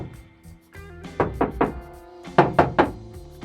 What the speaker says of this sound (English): and when I knock here,